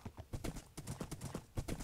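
Horse hooves clip-clop in a steady, brisk rhythm in Minecraft, a run of quick close hoofbeats with no talk over them.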